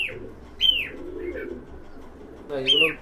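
Pigeons, including fancy and high-flying breeds such as Black Diamond, coo and call in short bursts nearby, with a human voice faintly present underneath.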